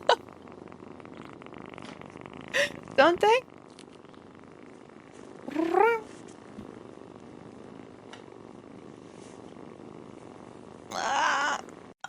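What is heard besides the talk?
gray kitten purring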